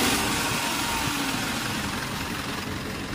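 The 4M51 diesel engine of a Mitsubishi Canter truck with a low-power fault runs continuously with a dense, rough, steady mechanical rumble, close by and without talk.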